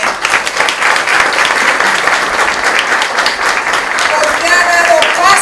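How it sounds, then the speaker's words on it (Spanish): A crowd at a pasillo song contest in Guayaquil applauds the city's mayor, Jaime Nebot, with dense, steady clapping that holds at full strength throughout. Scattered voices mix into the ovation. "para quien pido un voto de aplauso también"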